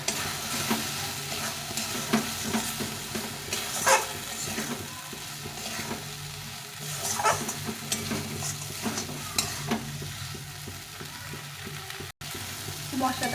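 Fried potatoes are stir-fried in a spiced masala for a Bengali fish curry with potato and eggplant, giving a continuous sizzle under repeated nearby scraping strokes of a spoon against the pan.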